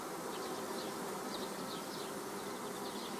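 A swarm of honeybees near an apiary in Tetiiv drones in a continuous, even buzz, fairly soft and unbroken, with no talking.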